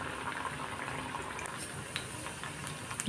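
Rava vada frying in oil makes a soft, continuous bubbling sizzle with occasional small pops, fairly quiet and steady.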